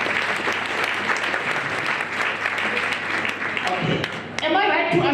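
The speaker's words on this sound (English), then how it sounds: "Let's clap hands for everyone who's here." Crowd at a long service awards ceremony gives continuous, full applause, steady and fairly close, with a voice cutting in over it near the end.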